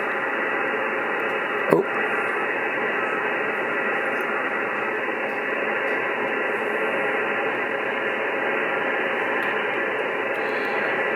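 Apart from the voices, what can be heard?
radio static noise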